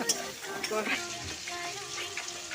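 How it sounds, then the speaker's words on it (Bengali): Chopped tomato with onion and ginger-garlic paste fries in a pan for a Bengali mutton curry, hissing steadily while a spatula stirs and scrapes through it, close and continuous with no talking. "এরপর দিয়ে দেবো টমেটো কুচি টমেটো কুচিটাকে ভালো করে মাখিয়ে নেব"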